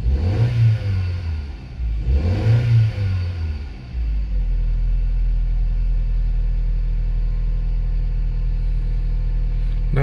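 A Vauxhall Astra engine cranks twice with a churning starter, then catches and settles into a steady, fairly quiet idle after an exhaust repair, running alone without talk.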